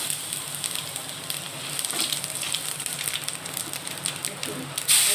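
Bay leaf and cumin seeds hit hot fish oil in a pan, giving a steady crackling sizzle with scattered pops throughout and a sharper spray of hiss near the end.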